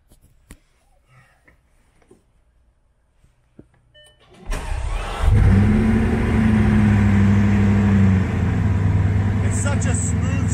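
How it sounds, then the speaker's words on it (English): Near-silence with a few faint clicks, then a Bugatti Chiron W16 engine cranks and catches, settling into a loud, smooth, steady idle. "the startup is not violent like some of the other cars"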